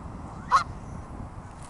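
A large bird, likely a goose, gives a single loud honk in a country park, standing out briefly above a steady low murmur of outdoor background noise.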